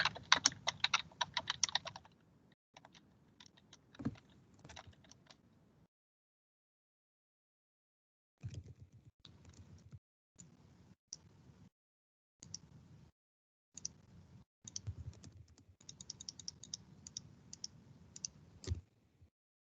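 Bursts of clicky computer-keyboard typing during a meeting, quick irregular keystrokes separated by silent pauses, close and fairly quiet with no talk.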